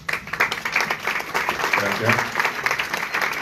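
An audience at a university event applauds with dense, steady clapping throughout, and a voice speaks briefly over it.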